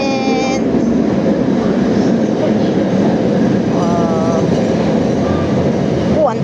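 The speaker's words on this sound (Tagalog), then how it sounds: "Andiyan na yung train." A Kuala Lumpur MRT train pulls into the station with a loud, continuous rumble and rush of wheels, close by, joined by brief tonal electronic chimes and a faint voice in the busy platform din.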